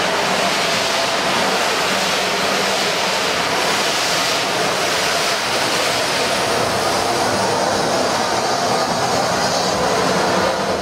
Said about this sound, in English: With Clanline's maintenance now completed, she returned to the main line, hauling the British Pullman train to Bristol.